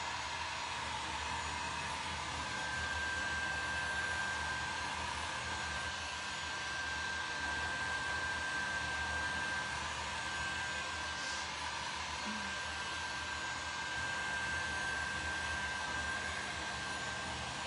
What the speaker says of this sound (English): When you apply the heat gun to it and dry it fast,